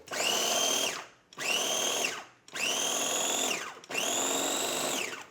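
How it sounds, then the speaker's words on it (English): A food processor blends garlic scapes, walnuts and olive oil into pesto in four loud, even whirring pulses of about a second each, separated by short pauses. "All right, so into the mixer goes the rest of our olive oil."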